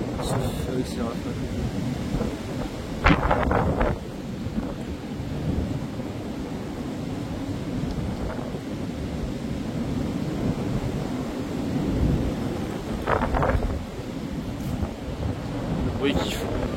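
Storm Floriane gusts on 5 January 2025 produce a continuous deep roaring and buffeting outdoors, with a few sharp rattles and knocks rising above the blustery rumble.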